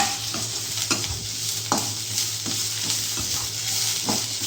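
Thuthuvalai leaves sauté in hot oil in a pan, a steady close sizzle broken by repeated stirring scrapes and taps of a spoon at uneven intervals.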